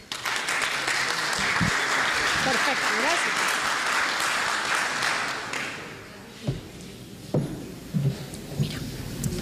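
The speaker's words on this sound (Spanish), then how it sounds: "Démosle, por favor, un fuerte aplauso." An audience at a product safety congress breaks into strong, sustained applause that fades out after about six seconds, followed by scattered bumps and a brief spoken exchange.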